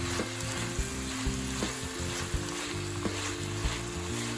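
Potatoes and noodles sizzle in a frying pan as they are stirred, giving a steady close frying hiss with regular scraping clicks from the utensil against the pan.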